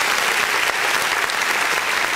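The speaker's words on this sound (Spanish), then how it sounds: "¡Un aplauso para ella!" Audience at a clown show applauds loudly, a thick continuous burst of clapping lasting about two seconds with no talking over it.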